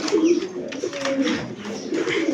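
Racing pigeons of local and foreign breeds coo softly and repeatedly at close range, low throaty calls overlapping with faint rustling in the background.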